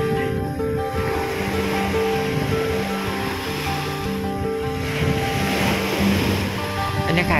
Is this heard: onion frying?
no